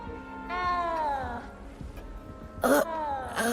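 A frightened little cat in the Hogwarts Legacy video game meows twice, a long drawn-out wail followed by a shorter, sharper cry, close and clear over a quiet background with faint incidental noises.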